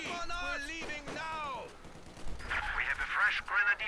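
Machine gun fire in the Company of Heroes 2 Rzhev winter battle: a speaking voice fills the first half, then loud sustained rattling bursts of gunfire follow alone.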